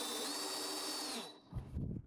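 An electric drill drives a screw in a short, close burst of high motor whine lasting just over a second, then cuts off, followed by a couple of soft handling knocks.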